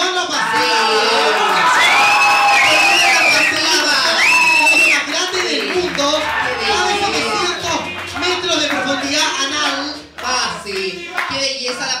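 A studio audience at a Spanish-language comedy game show cheers, whoops and claps, loud and continuous, with talk and shouting mixed in and the noise easing off toward the end.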